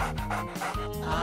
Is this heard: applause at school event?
no